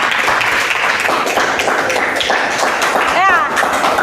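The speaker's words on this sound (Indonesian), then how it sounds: "Oke, aplaus untuk Nova ya." A classroom gives a student a burst of applause, many hands clapping densely and steadily at close range, with a voice speaking briefly near the end.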